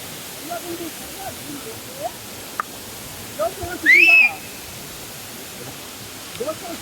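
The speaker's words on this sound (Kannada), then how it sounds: "ಕಡಮಗುಂಡಿ ಜಲಪಾತ ಅಂತ ಅಂಕಲ್" Kadamagundi waterfall gives a steady, broadband rushing wash in the background, while a sharp whistle cuts through and a few faint voices and chirps come and go.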